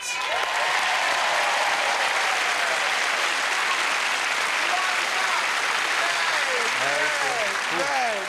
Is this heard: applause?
yes